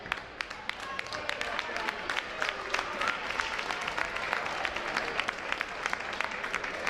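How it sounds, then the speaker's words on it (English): Crowd applause and scattered clapping from the home fans at a boys' high school basketball game in a gym, steady and moderately distant, with a commentator talking over it. "He gets a round of applause from the Kearsarge faithful as he walks off the court"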